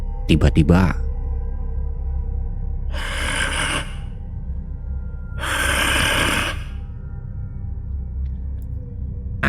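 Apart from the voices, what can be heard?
heavy breathing sound effect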